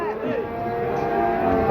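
A cow moos in a long, drawn-out call at a busy cattle market in Wirosari, with other livestock and crowd murmur faintly behind, close and loud.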